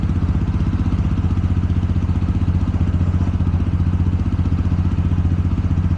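A TVS RTR 200 FI motorcycle engine runs steadily at a constant throttle, giving a close, loud, even low-pitched throb with a fast regular pulse and no breaks.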